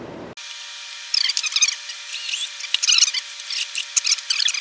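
Screws being driven to mount a pump, giving bursts of high-pitched squeaky grinding and whirring in irregular spurts after a brief low thump at the start, close and moderately loud with no talking.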